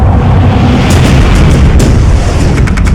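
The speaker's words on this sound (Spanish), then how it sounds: "cuando una explosión destrozó el corazón de una pequeña ciudad estadounidense" An explosion at a station in a small town in Nebraska: a loud, heavy, rumbling boom with deep roaring bass and crackling bursts, continuous and close throughout.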